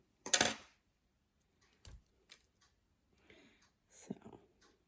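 Scissors cut a nail wrap during a manicure at close range: a few sharp, separate snips and clicks with quiet gaps between them.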